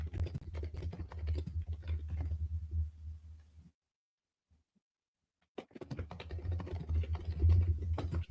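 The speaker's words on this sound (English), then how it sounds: "Just typing response" Rapid typing on a computer keyboard, close and steady keystroke patter that breaks into about two seconds of silence before the clicking resumes.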